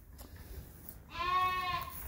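A sheep on a lambing farm gives one clear, drawn-out bleat near the end, loud and close, after a quieter stretch of faint farmyard background.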